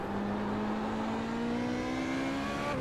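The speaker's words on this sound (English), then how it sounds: "Nice pleasant engine note to this car as well" Renault F3.5 race car engine in iRacing, a steady high-pitched whining drone with a smoothly rising tone, loud and continuous throughout, no talking.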